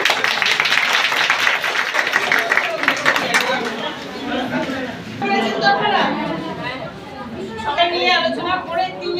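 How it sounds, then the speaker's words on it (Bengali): An audience at a local ward meeting applauds an MLA. The clapping is strongest at the start, then fades into crowd chatter and murmuring voices, with a few scattered claps later. "একটু ওনার জন্য করতালি দিয়ে সবাই"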